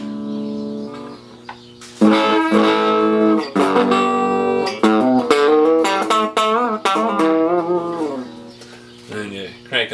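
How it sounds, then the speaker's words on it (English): An electric guitar through a cranked vintage Hudson amp with a 1970s Fender Vibro Champ speaker plays thick distorted, sustained, buzzing chords and bends, loud and up front, trailing off at the end. "and you crank it up, and it's when you get the distortion out of it"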